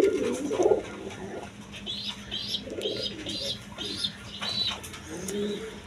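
High-flying Giribaz pigeons, a breeding pair kept with two eggs, coo in a series of soft, rolling calls mixed with a few brief chirps. The birds sound close and are heard alone.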